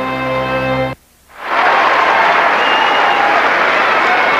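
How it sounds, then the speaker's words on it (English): Wimbledon crowd on Court 1 at the 1999 semifinal, Agassi versus Rafter, bursting into loud, sustained applause and cheering after a brief silence, a dense broadband roar filling the rest of the moment. "Crowd at court 1 cheering both men back to action"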